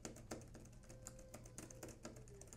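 Rapid, light clicking of Samsung Galaxy Tab S9 book cover keyboard keys being pressed in an irregular typing rhythm, close by and fairly quiet, with no voices.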